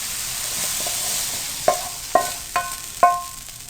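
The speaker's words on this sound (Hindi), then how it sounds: "टमाटर को भी आपने सिर्फ 1 मिनट के लिए फ्राई करना है" Tomatoes frying in a pan give a soft, steady sizzle, broken near the end by four sharp clinks of a utensil against the pan in quick succession. No voices are heard.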